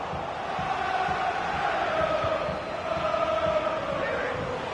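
A football stadium crowd at a Manchester City match roars and chants in a steady, loud wash of massed voices that carries on without a break.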